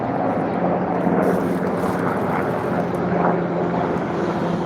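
A fixed-wing airplane passes overhead as a steady, loud broadband roar that stays fairly constant throughout with no talking over it.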